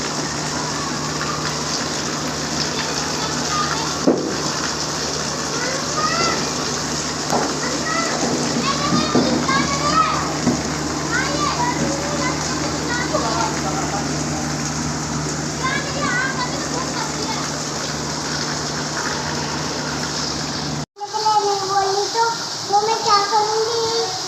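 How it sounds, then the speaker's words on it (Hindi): Heavy rain pours in a constant dense hiss, with children's voices chattering over it; a sharp knock cuts in near the end. "ये देखो गाइस कितनी तेज़ बारिश हो रही है।"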